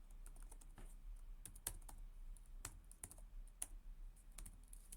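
Quiet computer keyboard typing a command, a sparse string of light key clicks at an irregular pace over a low steady hum, close and faint.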